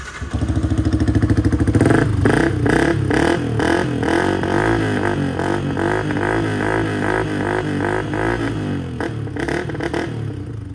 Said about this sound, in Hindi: ये जो आप साउंड सुन रहे हो ये विद डीबी किलर है